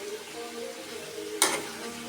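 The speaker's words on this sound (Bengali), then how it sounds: "এই তো আলু ভাজা হয়ে গিয়েছে, এখন আমি নামিয়ে নেব।" Potatoes frying in a pan while chicken curry is cooked, giving a faint, steady sizzle with one short, bright scrape or stir partway through.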